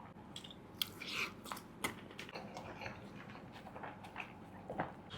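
Someone bites and chews a mouthful of biryani with egg and brinjal, soft close-up crunches and wet mastication clicks in an irregular rhythm, faint and without talking.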